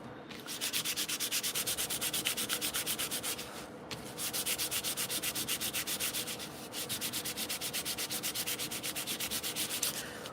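A paper model part is sanded to strip its paint, giving steady rhythmic scraping strokes, close and fairly quiet, in two long runs with a brief pause between them.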